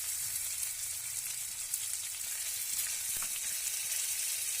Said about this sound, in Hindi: अब इसको अच्छी तरह से फ्राई कर लेंगे।